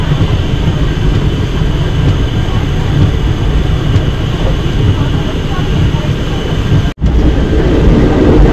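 The Ganadevata train pulling into Bandel Junction, heard from on board, makes a loud, continuous rumble and rattle that stays steady throughout, broken only by a brief dropout near the end.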